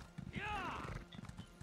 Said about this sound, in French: Hop, je vais prendre mon cheval.